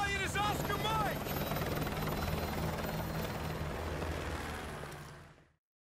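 A military helicopter in Call of Duty: Modern Warfare 2 Campaign Remastered gives a steady, broad rotor roar that stays constant and then fades out quickly near the end, with a brief voice at the start.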